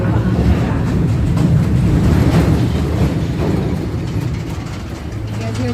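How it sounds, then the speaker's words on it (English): Trains rumbling beneath a Chicago building heard from a river tour boat, a low continuous rolling rumble with faint rail clatter, moderately distant and steady, under a guide's voice and boat noise. "You guys hear those trains under there?"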